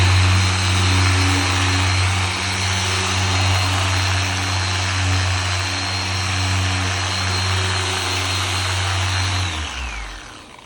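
A polishing buffer runs steadily during an exterior glaze buff on a long, wide car hood, giving a loud continuous motor hum with a high whine that winds down and stops near the end.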